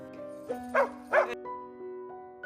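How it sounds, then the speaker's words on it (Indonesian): Dog giving short barks and whimpering yips outside at night, a few separate calls over a steady low tonal hum, moderately close. "Caroline masih heran melihat anjing mereka yang terus menggonggong di luar dan menolak masuk ke rumah"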